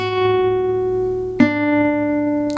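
Two guitar notes ring out in turn, a sustained tone followed by a second plucked note that forms a major third, each clean, close and steady with no talk.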